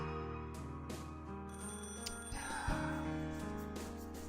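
Telephone ringing after a number is dialed in the visual novel game Higurashi, a steady electronic ring tone with repeating pulses, sustained and moderately loud over background music.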